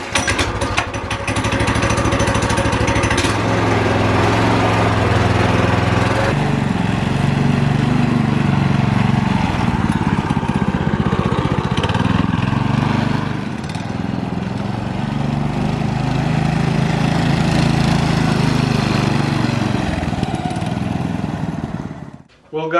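A mini bike's small engine runs loud and close after a new throttle cable is fitted, buzzing continuously with shifts in pitch as the throttle opens and eases, cutting out at the end, with a voice speaking over it.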